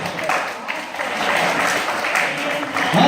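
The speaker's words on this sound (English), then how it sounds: "Give God a clap of it." Church congregation at a worship service applauding, a dense wash of many hands clapping steadily for about three seconds, fairly loud and close with crowd noise mixed in.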